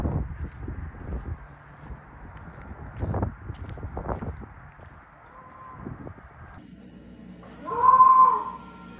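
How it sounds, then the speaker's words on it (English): A Tesla Model Y plays a goat bleat as it locks: one brief, fairly faint nasal bleat near the end. Footstep-like knocks and low background noise come before it. "when the car locked, it played the goat sound"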